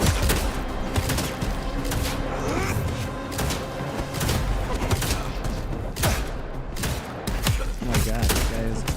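Gunshots in Vampire: The Masquerade Bloodlines 2 ring out as repeated sharp cracks and volleys throughout, loud and close, with thuds and impacts between bursts.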